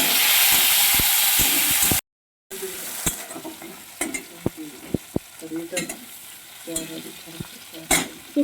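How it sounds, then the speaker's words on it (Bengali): Tomato and whole dried red chillies fry in oil in a pan, a steady close sizzle broken by a brief gap and then stirring scrapes and clicks. "টমেটোটা একটু ভাজা হয়ে গেছে"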